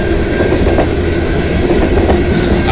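A train rolls past on the Dundas Subdivision at Clarke Road in London, Ontario, a Winnipeg-to-Toronto run bound for McMillan Yard, its steady close rumble and clickety-clack of wheels over rail joints continuous and loud throughout, with no voices.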